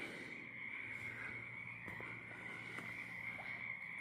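A dense chorus of frogs croaks steadily at night in a continuous high trilling drone, fairly faint and distant, with a few occasional brief clicks over it.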